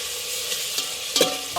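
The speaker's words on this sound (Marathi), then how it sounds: "आता आपण आलं आणि लसणाची पेस्ट टाकूया त्यात." Ginger-garlic paste sizzling in hot oil with tomato and chili in a pan, a steady close hiss with a couple of brief scraping stirs, the sharpest near the end, no talking.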